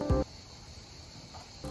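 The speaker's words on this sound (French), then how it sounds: "on entend les cigales" Cicadas drone steadily outdoors near an open-air stage in a high, continuous buzz that carries on throughout, with a brief low thump at the start and no talking.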